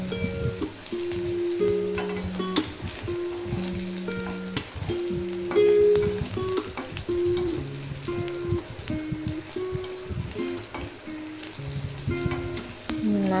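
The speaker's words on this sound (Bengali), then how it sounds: "এদিকে মাছ মোটামুটি ভাজা হয়েছে, আর একটু ভাজা হবে" Dried fish frying in hot oil in a home kitchen pan: a steady, dense sizzle and crackle runs throughout, close and fairly loud, with background music playing over it.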